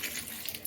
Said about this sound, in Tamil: இப்போ தேவையான அளவு தண்ணி